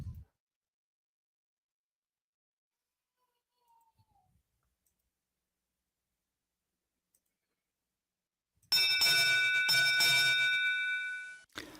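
Bell rung at the opening of a live show, a single bright, sustained ringing strike that comes after a long near-silence and then slowly fades.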